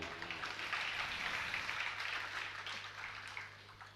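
Audience applause during a Jain religious discourse in Nemawar: a dense, steady wash of many hands clapping, fairly distant and soft, continuing unbroken for the whole stretch with no voices over it.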